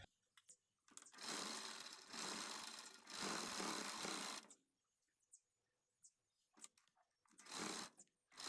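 A sewing machine stitches lining fabric for a party-wear saree blouse, whirring in two longer runs. Pauses and short clicking bursts follow, all heard at close range.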